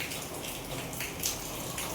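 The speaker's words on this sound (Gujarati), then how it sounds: "મસ્ત વરસાદ પડે છે." Steady rain falling outdoors, a soft continuous patter and splash of drops on surfaces with a few slightly louder drips, no voices present.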